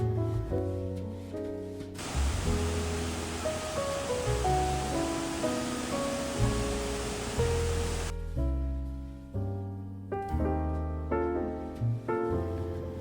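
Kravica waterfall in Bosnia, a smaller cascade seen up close from the water, roars as a dense, steady rush that swells in the middle stretch while music plays throughout.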